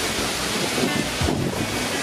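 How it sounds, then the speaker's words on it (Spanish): Waterfall at Cascada Los Vientos in San Alfonso, a steady broadband roar of falling water heard up close, with some wind buffeting the microphone. "Como tenemos una caída de agua"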